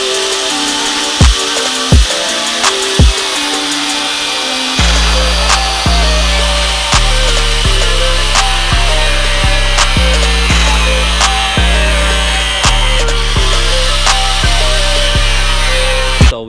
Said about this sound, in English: So we finished cutting out the area for the double din.